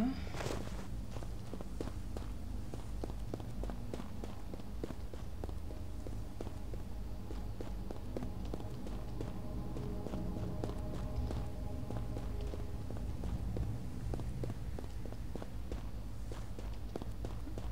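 Rapid, regular footsteps of a character running around a Tomb Raider level in a video game, a steady patter of soft thuds continuing throughout under faint game ambience.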